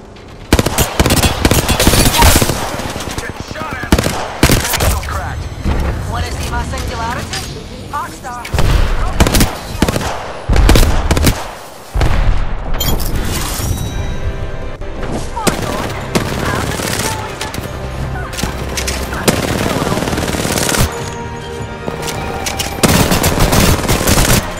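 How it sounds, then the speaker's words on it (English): Loud bursts of automatic gunfire aimed at the player in Apex Legends, with repeated volleys, sharp blasts and short breaks, against a busy backdrop of in-game sound. "Getting shot at!"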